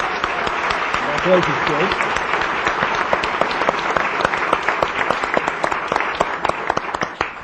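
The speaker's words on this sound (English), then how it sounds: "How about a round of applause for all our new candidates?" Audience at a Wheat Ridge City Council meeting applauds its new candidates with steady, dense clapping throughout, while a voice briefly speaks over it.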